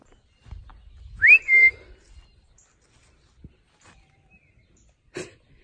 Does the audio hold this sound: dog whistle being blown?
yes